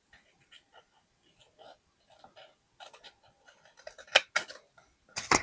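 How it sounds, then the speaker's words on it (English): Scissors snip through planner stickers in a string of small, close clicks that start soft and sparse, then grow louder and quicker toward the end. "Right here, and try and cut it straight."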